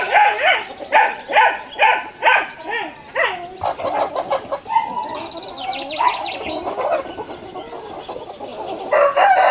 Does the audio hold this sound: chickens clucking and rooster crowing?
yes